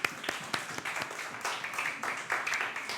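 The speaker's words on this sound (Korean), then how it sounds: "하나님께 영광의 박수 올려드리겠습니다." A church congregation claps after a closing prayer in a Korean service, a moderate wash of hands with several sharper individual claps standing out irregularly, fairly quiet and not far off.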